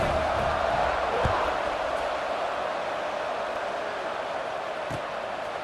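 Steady, dense roar of a stadium crowd at a College Football 26 kickoff, loud and continuous without distinct peaks, no voices standing out.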